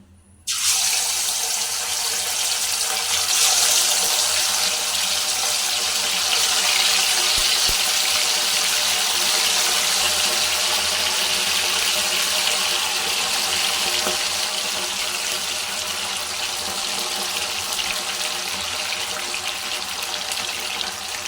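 Pieces of food frying in well-heated oil, a steady loud hissing sizzle starting abruptly after a brief quiet moment and continuing evenly throughout without talk.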